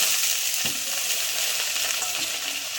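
Cut eggplant fries in hot oil with onion and garlic in a pan, a strong even hiss of sizzling with a small clink of a utensil near the start.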